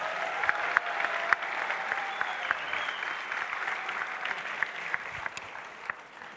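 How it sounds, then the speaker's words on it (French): Audience applause for a rapper and a journalist-entrepreneur at an ESSEC business school event, a steady dense wash of clapping with sharper individual claps standing out, sustained and fairly loud throughout. "j'ai pas eu tous ces applaudissements"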